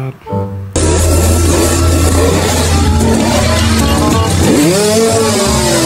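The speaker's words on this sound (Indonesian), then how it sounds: "Ini motor balap." Blue and silver toy racing motorcycle giving a loud, continuous engine roar that starts abruptly after a quiet moment, holding a steady revving drone before the pitch dips and sweeps back up near the end.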